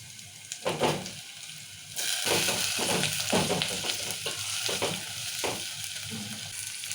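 Onions and tomatoes fry in a pan for red lentil dalcha, sizzling steadily with bursts of stirring scrapes that swell and fade, close and fairly quiet, with no voices.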